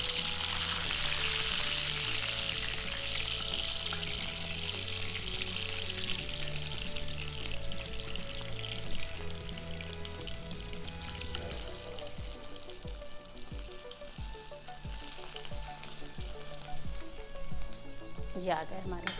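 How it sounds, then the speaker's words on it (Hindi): Kebabs frying in a pan give a steady, close sizzle with bubbling crackle that runs throughout, over a low tonal background hum. "कबाब बहुत एहतियात से पलटने हैं ताकि जो है वो नीचे से जब पक जाएंगे"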